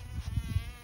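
A carpenter bee buzzing close by in short, uneven low hums, faint and brief.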